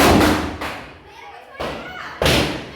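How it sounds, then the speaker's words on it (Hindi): Firecrackers bursting during a Dussehra Ravan burning in a residential colony, several loud sharp thuds with a brief gap between them, close and booming, followed by a fainter rumble. "पटाखों की आवाज़ आ ही रही होगी"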